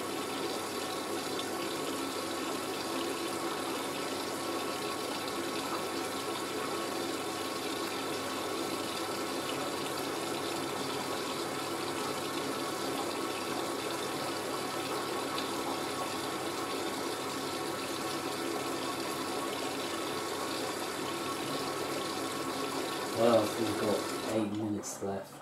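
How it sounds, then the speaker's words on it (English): Water flows steadily into a Miele W562 Prestige Plus washing machine as it fills for the final rinse with conditioner, a constant hissing rush for the whole stretch, with a brief clunk near the end. "Final rinse now, so the machine takes in the conditioner first."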